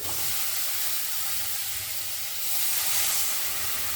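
Kajli fish dropped into a pan of sizzling, well-fried spice paste for a mustard-leaf fish curry gives a steady, close, loud hiss and sizzle that swells slightly toward the end, with no talking.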